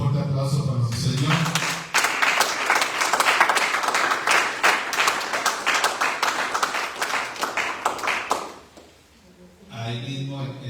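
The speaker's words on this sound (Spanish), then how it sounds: "Un fuerte aplauso para nuestro Señor." Church congregation applauding together, a loud, sustained burst of clapping lasting several seconds between stretches of a preacher's speech, then fading out.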